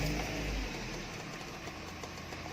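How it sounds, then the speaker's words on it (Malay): A car engine idles steadily with a low, even rumble through the whole stretch. The car is being checked for a noise that appears when turning or reversing. "Kita start dulu engine."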